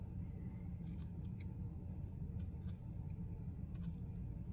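Scissors snip fluff off a feather being made into a DIY journal pen: a handful of faint, crisp snips spaced irregularly over a quiet, low background rumble.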